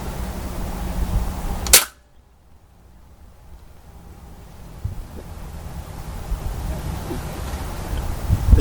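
A single sharp crack from a Beeman 1357 air pistol fired at a polo mint target, close and loud, followed by quiet outdoor wind noise.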